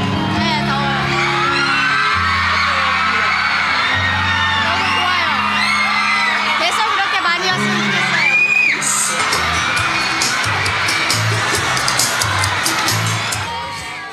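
A large crowd cheers, whoops and shouts at an event in hot, humid Philippine weather, a loud continuous roar with excited yells rising and falling, along with music and a voice speaking.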